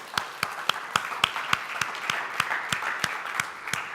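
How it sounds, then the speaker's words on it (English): Sharp, evenly spaced claps ring out, roughly three per second, over a thin wash of scattered applause from a small crowd at a media festival panel session. "Let's give him a round of applause."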